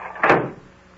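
An indoor door swings shut in a single short, full thud with a brief fading tail, close and fairly loud, in an old radio suspense drama set in an antique shop.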